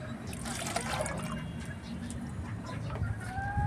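Chickens cluck in a backyard coop alongside a soft trickle of water from drinking containers cut from old oil jugs, a steady close-up murmur of birds and dribbling.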